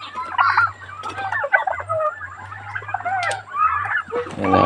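Egg-laying poultry hens cluck and chatter continuously at close range, with overlapping calls over a low steady hum.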